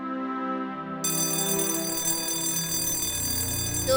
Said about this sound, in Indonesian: Tuh, udah bel.